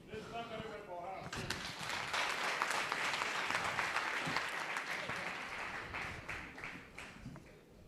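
Audience at a secondary school foundation debate event applauding the school principal, a sustained burst of many hands clapping that swells quickly and holds strong before thinning out, with a voice briefly audible at the start.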